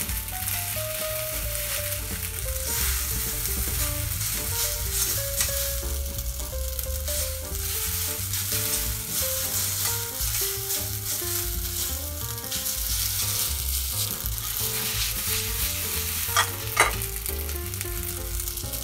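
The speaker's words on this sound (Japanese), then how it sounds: "フライパンに入れたらちょっと放置しておくと焦げ目がついていきますので、それから混ぜるといい感じになりますね。" Napolitan pasta sizzles in a frying pan as it browns and is stirred, a continuous close frying hiss that runs throughout with tonal, music-like notes layered over it.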